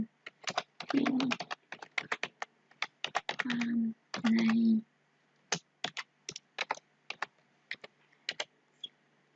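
Keys clatter on a computer keyboard as text is typed into Microsoft Word, with quick bursts of keystrokes and short pauses. Close and clear, with a couple of brief sustained tones mixed in.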